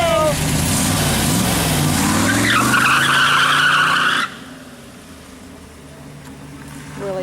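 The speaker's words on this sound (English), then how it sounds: "had to do a J-turn at the bottom of the hill to stop the car" A 1964 Corvette with no brakes slides through a J-turn at the bottom of a hill. Its tyres squeal loudly and rising for about four seconds alongside engine noise, then drop away to a quieter idle and background murmur.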